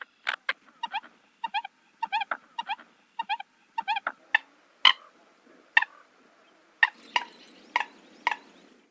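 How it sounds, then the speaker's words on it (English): American coot calls in a marsh: a series of short, clipped popping and hiccuping notes in quick pairs, then sharper, louder single calls spaced apart, near and alone. "So let's have a listen to the American coot."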